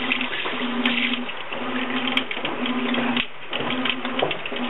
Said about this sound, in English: let's go turn the water on.